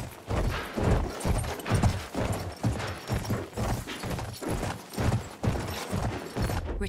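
Horse hooves gallop in a steady, rapid clip-clop rhythm in a Battlefield 1 match on the Suez map, loud and continuous throughout, with battle noise faintly behind.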